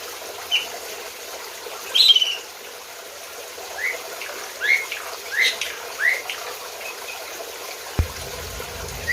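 Birds give short chirps and whistled calls at intervals in an aviary, including a territorial kacer and a garden starling, over a low wash of trickling water, with a soft thump near the end.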